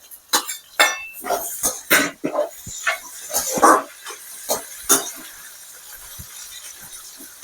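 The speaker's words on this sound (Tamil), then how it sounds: "சரி தக்காளி போட்டுக்கலாம்" Chopped tomatoes go into a hot pan of frying onions for a bitter gourd and prawn fry, giving a run of clattering stirs and sizzling hisses, fairly close and loud, that thin out toward the end.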